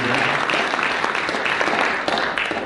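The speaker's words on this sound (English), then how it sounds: "give him a round of applause for Wolf" Dense, loud applause from a seated audience at a World Trade Center Kentucky event, continuous clapping close by with a murmur of voices mixed in.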